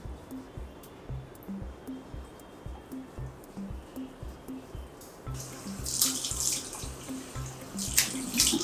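Tap water used to wash a face at a bathroom sink: soft rhythmic splashing and scrubbing at first, then a louder burst of running, spattering water with scattered splashes.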